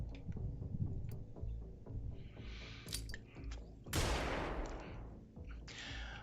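Flashbang grenade detonating in the Xenonauts 2 combat game: a sharp broadband blast near the four-second mark rising out of busy game combat noise and scattered gunfire-like cracks, followed by a brief hissing tail.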